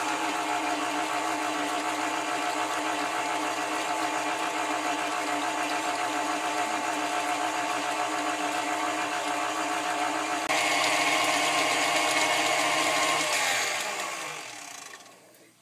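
A stand mixer whips a banana pudding mixture with a steady, loud motor whir that holds constant before rising slightly in pitch near the end and then winding down.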